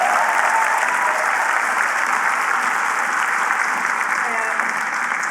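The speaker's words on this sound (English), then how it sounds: "so you should applaud her." Loud, sustained audience applause at an evening panel discussion, a thick continuous wash of clapping from a large crowd that holds steady throughout.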